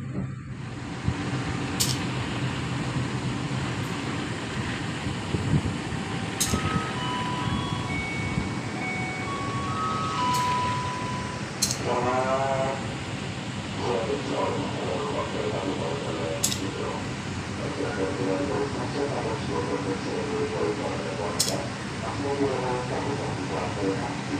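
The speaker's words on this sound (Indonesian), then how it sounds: "kereta api komuter lain Sindro kembali diberangkatkan dari jalur 2 stasiun" A commuter train hums and rumbles steadily as it pulls out of a station in Indonesia, with mechanical whines, periodic clicks, and a station announcement or talk in the background.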